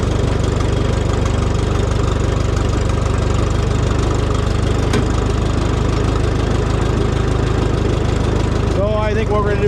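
An old tractor engine idles steadily, a loud, close, low rhythmic chugging and knocking that runs without a break, with a person speaking briefly near the end.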